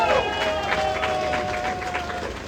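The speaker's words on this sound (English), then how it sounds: "A round of applause, ladies and gentlemen." Audience applause at an event where a president tours a poultry farm, a broad steady wash of clapping with some crowd noise and a sustained tone running through it.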